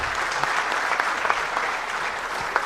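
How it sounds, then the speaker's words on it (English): An audience at a medical conference gives a standing ovation to an award speaker, with dense, steady clapping close by throughout. "And I will request a standing ovation from all of you and a lot of claps to our Oration Award speaker, Dr. R. Rajesh sir."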